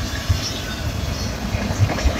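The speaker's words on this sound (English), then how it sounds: "Very fast and big and long. CSX intermodal train." A fast, long CSX intermodal freight train passes close by on one of several parallel tracks, producing a loud steady rumble and roar with periodic rhythmic wheel thumps, and no speech.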